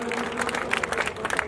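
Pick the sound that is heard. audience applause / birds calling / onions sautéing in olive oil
audience applause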